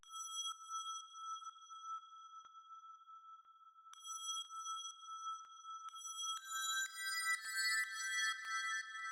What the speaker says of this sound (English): And then I did these DX7 bells.